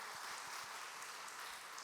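Church congregation applauding during a Sunday service in Jeju, a steady dense wash of many hands clapping at once, fairly quiet and continuous throughout with no voices over it.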